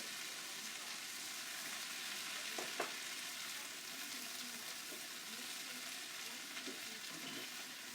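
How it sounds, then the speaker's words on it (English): Diced tomatoes frying in a pan for a southwestern stir-fry, a steady soft hiss of sizzling throughout with a couple of faint knocks, fairly quiet and even. "I'm going to go ahead and add in some tomatoes"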